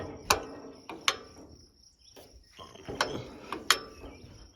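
Throttle lever on a 1942 John Deere Model B tractor being worked back and forth, a few sharp metallic clicks and ratcheting clanks spaced irregularly, close and fairly quiet.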